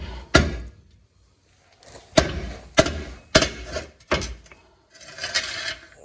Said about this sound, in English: So now I just need to take that bolt out and we'll be able to get this cross member out of the way.